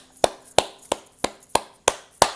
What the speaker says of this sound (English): Clap your hands like mine.